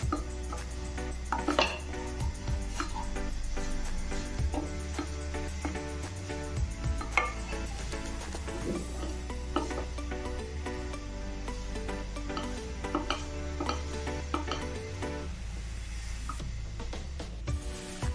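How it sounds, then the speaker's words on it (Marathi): Grated coconut filling for modak is stirred in a pan, with scraping and clinking of a spoon against the metal in irregular bursts over a low steady background. "जसं तुम्ही मिक्स करत जाल तसं नारळ जो आहे छान असा ओलसर होईल"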